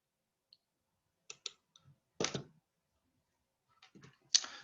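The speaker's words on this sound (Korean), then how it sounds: "자 이제 실행 버튼 누를게요" A few quiet, sharp computer mouse clicks in a near-silent room, spaced irregularly, with one slightly louder click near the end.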